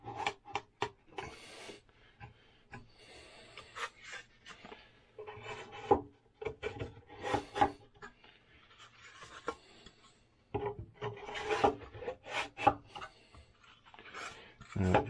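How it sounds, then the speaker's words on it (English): Wooden bulkheads are sanded by hand in short, irregular rubbing strokes, quiet and close, with brief pauses between bursts of scraping. "These only needed minor sanding to get them to fit flush, fit correctly."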